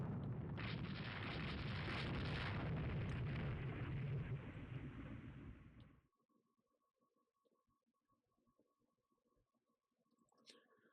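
Naval gunfire and explosions in the video game Rule the Waves 3, a loud continuous rumbling barrage that cuts off abruptly, leaving near silence with faint clicks.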